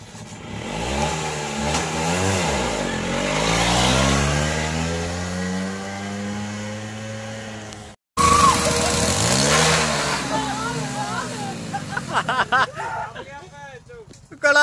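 Motorcycle engines, a Hero Splendor and a Passion, rev hard and rise and fall in pitch. The roar is close and loud, with a brief cutout midway and people talking and shouting over it.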